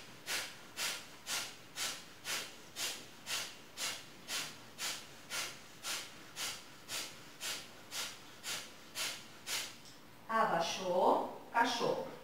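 Rapid, rhythmic forced exhales of breath-of-fire breathing in a Pilates class, about sixteen sharp hissing puffs at an even pace, followed by a short stretch of talk.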